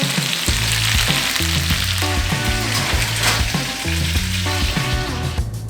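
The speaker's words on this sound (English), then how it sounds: "now that's some sizzling goodness" Salsa chicken sizzling loudly in a hot pan, a continuous dense crackle and hiss that holds steady throughout, close up, with soft music playing underneath.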